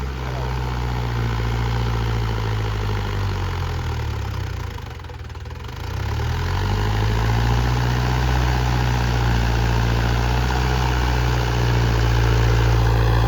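A new Arjun 605 DI PS tractor engine runs steadily nearby, a deep, loud diesel rumble that dips briefly midway before settling back to an even, throbbing idle.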